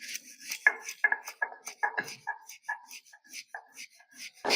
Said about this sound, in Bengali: এবার তিল আর পোস্ত একসাথে বেটে নেব